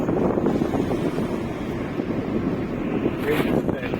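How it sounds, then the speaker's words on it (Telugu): Cool morning wind rushes in through an open window of a moving vehicle, a loud continuous buffeting roar close to the microphone, with faint voices underneath. "ప్రకృతిని ఆస్వాదిస్తుంది పొద్దున్న చల్లటి గాలి"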